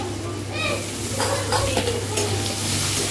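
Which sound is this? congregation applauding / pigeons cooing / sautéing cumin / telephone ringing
sautéing cumin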